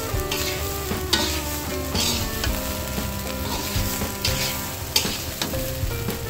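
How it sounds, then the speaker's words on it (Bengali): Broken polao rice grits are dry-fried in a pan, giving a busy sizzling hiss broken by repeated scraping stirs and a few sharp knocks of the spoon. "আর একটু ভেজে নিব চালটা।"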